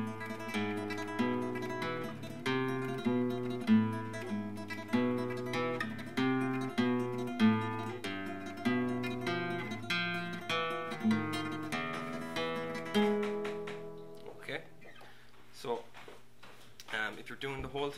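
Flamenco guitar plays a soleá tremolo passage, rapid repeated treble notes rippling over a thumbed bass line, close and moderately quiet, easing into a few slower closing strums.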